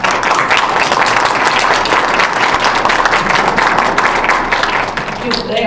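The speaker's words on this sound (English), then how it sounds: "let's give you guys a round of applause" A crowd at a university research day awards event applauds committee members, dense loud clapping sustained for several seconds before easing off at the end.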